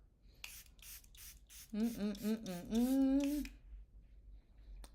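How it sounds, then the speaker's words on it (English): Several quick spritzes of Charlotte Tilbury Airbrush Flawless makeup setting spray hiss in a rapid series, followed by a person speaking close by. "So I use Charlotte's Airbrush Flawless Setting Spray, viral sensation."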